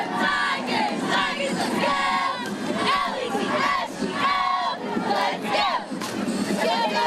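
Carroll Tigerettes cheerleaders shout a loud, rhythmic chanted cheer in unison at a night parade, their voices carrying over a noisy crowd for the whole stretch.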